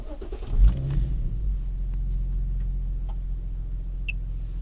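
An Infiniti car engine cranks and catches after a mass airflow sensor was cleaned, a brief loud burst settling into a steady low idle rumble with faint ticking, recorded close with no talk.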